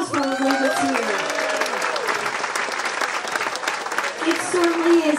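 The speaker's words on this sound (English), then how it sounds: "let's have a round of applause for everybody that's here" A crowd applauds at an evening fundraising gala in the Everglades Wonder Gardens, Bonita Springs: sustained, fairly close clapping from many people, with a voice speaking over it at the start and again near the end.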